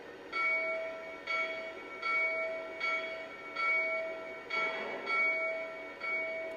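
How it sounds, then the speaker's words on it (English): A Lionel Hiawatha 4-4-2 Atlantic model locomotive rings its bell. Six or seven evenly spaced clangs, each ringing out briefly before the next, form a steady, fairly close loop with nothing else heard. "There's the bell."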